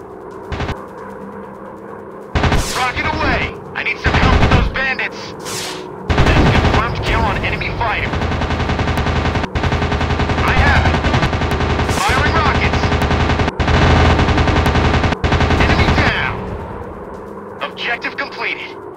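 Machine gun fire in a WW2 aerial dogfight video game: loud, sustained rattling bursts over engine drone, starting with short bursts and then a long continuous stretch, with game voices talking over parts of it.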